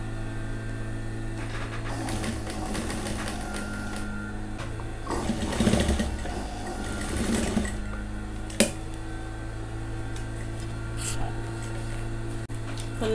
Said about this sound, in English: I'm going to mash it down and sew.